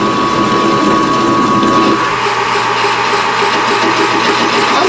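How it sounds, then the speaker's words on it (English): A metal lathe facing a part and taking a heavy cut, making a loud steady mechanical hum with a rhythmic grinding chatter and a sustained tone, close and without talk. "The lathe just doesn't want to pull today."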